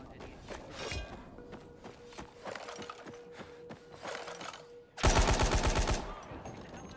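The golden rifle fires in Dying Light 2, scattered single shots amid game noise, then a loud rapid burst of automatic fire near the end.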